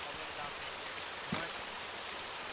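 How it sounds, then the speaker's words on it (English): Soft, steady rain hisses in the background of a video game, a quiet wash of falling drops with a faint low rumble beneath it. "The rain drowns out the birds, so we're gonna listen to the rain a little bit here."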